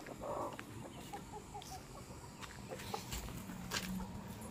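A black hen clucks in short, scattered bursts nearby, with soft rustling and outdoor ambience around it.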